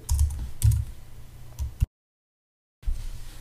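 Fast typing on a computer keyboard while writing PHP code, a dense run of close key clatter that breaks off into silence for about a second and then resumes.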